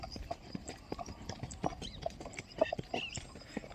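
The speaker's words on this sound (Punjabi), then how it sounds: "ਘੋੜੀਆਂ ਤੋਰ ਲਿਆਈਏ" Hooves clip-clop at an irregular walking pace, several mares and fillies stepping on hard ground at a moderate distance, with faint background murmur.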